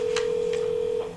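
A telephone line tone holds steady for about a second, with a few short clicks over it, then cuts off as the call is hung up.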